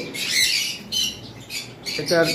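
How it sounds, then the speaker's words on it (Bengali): A blue-beaked conure, a tame pet parrot offered for sale, gives several loud, harsh squawks in quick succession close by, with a short pause between calls. "ব্লু ঠোঁটের কুনুর"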